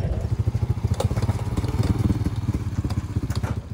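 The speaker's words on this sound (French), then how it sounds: "Preparando la moto para buscar y proteger los huevos de tortugas." A motorcycle idles nearby as it is readied to go out searching for sea turtle eggs, its engine giving a steady, loud, lumpy chugging with small clattering knocks.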